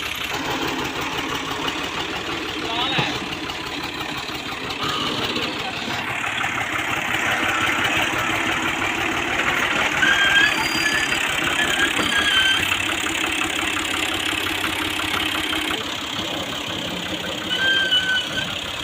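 A New Holland Al Ghazi tractor's diesel engine idles steadily and loudly close by while moving a thresher on a farm, with a continuous knocking rumble throughout.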